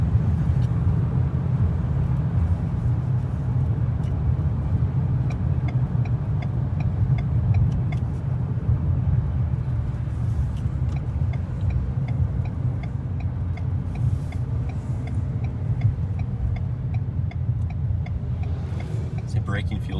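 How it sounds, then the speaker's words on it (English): A 2022 Ford Maverick truck accelerates while towing a trailer, heard as a steady, loud in-cabin engine and road drone that holds without a break throughout. "As you can see, we sped right up."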